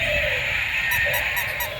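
A duck quacks in a continuous run of loud, honking calls, close by, with brief bursts repeating near the end and no talking.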